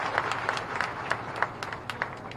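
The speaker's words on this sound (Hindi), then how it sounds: "मैं आग्रह करता हूं कि जोरदार ताली" An audience applauds to welcome Chief Minister Shivraj Singh Chouhan at a floral tribute ceremony for Peshwa Bajirao I's birth anniversary at Rawerkhedi, Khargone. The clapping is steady and scattered, with a few sharper claps, heard at a moderate distance.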